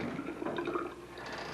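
Tap water running into a sink in a camp trailer bathroom, a steady close rush with splashing flow under good pressure, lasting throughout without talk.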